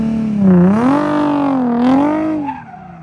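A car drifting on a track after a clutch kick, its engine revving in rising and falling waves under a loud tire screech, then easing off near the end.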